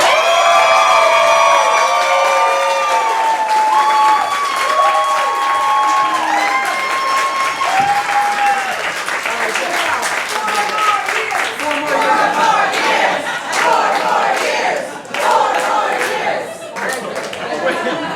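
A crowd at an arcade hootenanny concert event cheers and whoops loudly, with voices calling out over one another, then a burst of clapping joins in near the end, all close and continuous.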